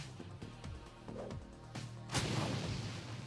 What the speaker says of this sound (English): Have you toss a grenade